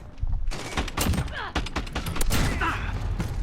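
An AA-12 automatic shotgun fires in Call of Duty Modern Warfare, loud rapid bursts of blasts with mechanical clatter between them, the shots coming in quick repeated volleys.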